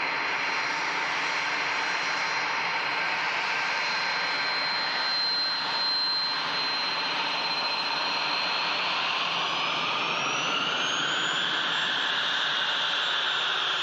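A Jet2 airliner roars down the runway and climbs out at Manchester Airport, a loud continuous jet engine rumble and whine that holds steady, then rises in pitch as the aircraft lifts away.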